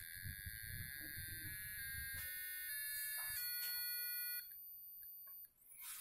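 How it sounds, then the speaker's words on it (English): A homemade rain detector alarm built on a Pico board with a BC547 transistor, triggered by water, sounds steady electronic beeping and buzzing tones with shifting pitch steps, close and fairly loud, ending abruptly near the finish. "something that will sound an alarm when it rains and wake me up"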